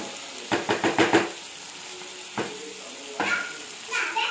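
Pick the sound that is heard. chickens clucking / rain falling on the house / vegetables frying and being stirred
vegetables frying and being stirred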